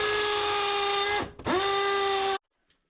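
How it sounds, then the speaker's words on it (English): A combi drill whines at a steady high pitch as it drives through material in a home workshop build, dipping briefly as the motor slows and restarts midway, then cutting off abruptly before near silence. "so we're going to use my combi drill"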